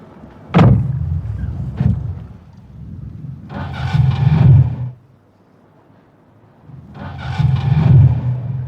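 An old, worn-out car engine cranks with difficulty in two separate loud, grinding bursts, broken by pauses and a near thud, heard up close with no talking.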